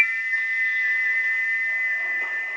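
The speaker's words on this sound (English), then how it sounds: "he wouldn't stop whistling until two fitters climbed up and knocked his whistle valve in place" A steam locomotive whistle blows one continuous, unbroken high tone for the whole stretch, steady in loudness with nothing else in the background.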